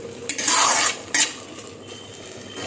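Tomatoes fry for chutney in a pan. A metal spoon stirs them in two loud scraping bursts over a faint, steady sizzle, with no one talking.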